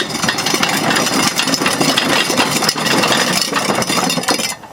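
A 1919 Domestic side-shaft hit-and-miss engine runs outdoors on grass during a tune-up. It gives a loud, close, continuous clattering chug with rattles throughout and no voices.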